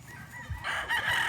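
A rooster crows once nearby, a short raspy call rising after a brief low rustle, with faint background noise around it.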